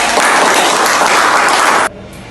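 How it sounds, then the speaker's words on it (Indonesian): A classroom of students claps together during a microteaching lesson, with dense, even applause that stops abruptly after about two seconds. "tepuk tangan untuk kita semua"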